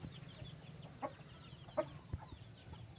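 A fighting rooster on a rural farm clucks a few times, faint and brief, against a low background hum.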